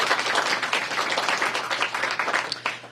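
An audience at an official housing program announcement breaks into sustained applause, a dense, steady wash of clapping with a low hum underneath and no speech.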